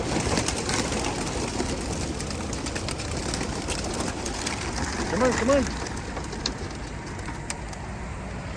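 Racing pigeons from a training loft, with a brief pair of soft coos near the middle over steady outdoor background noise, while a man repeatedly calls to the birds.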